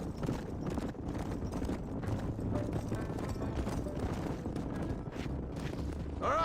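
Horse hooves clip-clop steadily at a trot in Red Dead Redemption, with a continuous rhythmic clatter and a windy rumble underneath. The sound is fairly close and holds constant throughout.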